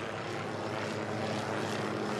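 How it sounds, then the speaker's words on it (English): Military helicopters fly overhead in Afghanistan, a steady, fairly faint engine and rotor drone that holds evenly throughout with no talking. "There are some military choppers flying above us right now."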